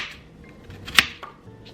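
A knife slices an apple into thin pieces for a side at home, one crisp, sharp cut standing out against a few faint, soft taps in an otherwise quiet kitchen.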